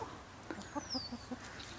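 Chickens on a farm give soft, scattered clucks and short murmuring calls over quiet outdoor ambience, with a faint higher chirp in the background.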